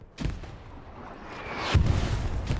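Artillery firing HE shells in Hell Let Loose, two heavy booms a moment apart with a rumbling tail, loud and close, no talking.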